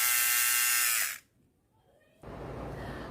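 A battery-powered Bronson eyebrow and lip hair trimmer runs with a bright high motor whine close by, cuts off into near silence for about a second, then a rougher buzzing resumes.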